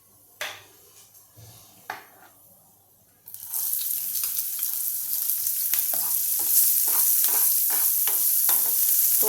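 Chopped onion with urad dal, cumin and asafoetida hits a pan after a few quiet clicks, bursting into a loud continuous sizzle with regular scraping stirs.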